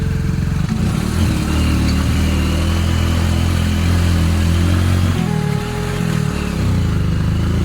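A motorcycle carries riders along a village road in Dapoli, its engine droning loud and steady close by with a brief dip in pitch partway through, and no voices.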